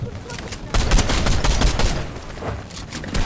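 Rapid bursts of gunfire in the video game Fortnite crackle loudly and densely through the middle of the moment, with voices talking over the shooting.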